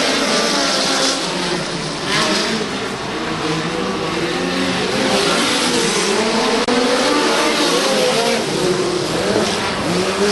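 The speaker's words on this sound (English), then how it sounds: "Evan Lentz racing into sixth position side by side with Shane Cockrum in car number 14C" Micro sprint race cars roar around the dirt oval at Belle Clair Speedway, a loud, continuous engine drone with rising and falling revs as cars pass side by side.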